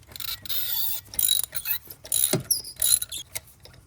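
A ratchet fitted with a 9/16 spark plug socket loosens a spark plug on a 2017-2022 Colorado engine, giving bursts of quick clicking pawl ratchets separated by short pauses, close up with no talking.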